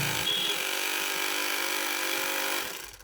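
A sewing machine runs a reinforcing stitch on a cotton bra, giving a steady, close whirring hum for about two and a half seconds before winding down and stopping.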